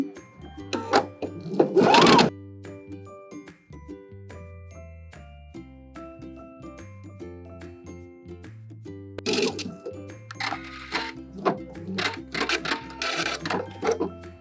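Sewing machine running zigzag stitches over threads on a thrifted 80s jacket being remade into a dress, short bursts of whirring stitching separated by pauses, with background music throughout.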